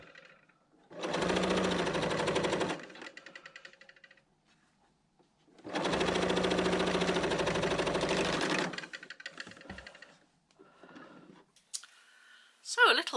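A Bernina L890 sewing machine stitches bunting flags onto cotton tape in two long, loud, steady bursts of rapid mechanical clatter, with quieter clicks, handling noises and a pause between them.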